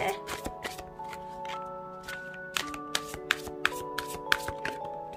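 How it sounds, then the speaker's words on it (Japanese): Tarot and oracle cards are shuffled by hand in a quick run of crisp riffling snaps and slides, close up, while a voice talks over part of it. "シャッフルが下手でね、申し訳ないんですけど、シャッフルシーンはもう飛ばしながら見ていってくださいね。"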